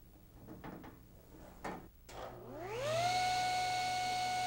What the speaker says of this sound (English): Cross-cut the dowel,